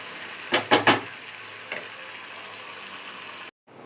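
Chicken pieces frying in a home kitchen pan, with three loud sizzling bursts early on as the meat hits the oil, a smaller flare later, then a steady background hiss before a brief cut.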